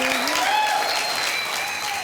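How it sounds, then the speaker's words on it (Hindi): TV game show studio audience breaks into loud, dense applause, sustained throughout, with a faint voice or tone audible underneath. "तालियां"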